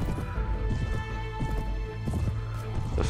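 Horse hooves gallop in the Mount and Blade video game, A World of Ice and Fire mod, a steady clip-clop rhythm running over a constant game music and ambience bed.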